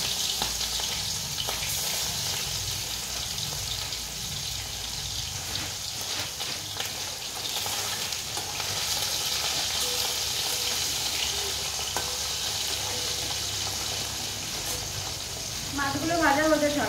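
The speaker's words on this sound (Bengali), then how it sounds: "মাছগুলো ভাজা হতে থাক।" Fish frying in a pan of hot oil gives off a dense, steady sizzle that crackles on throughout, with a brighter burst of spitting near the end.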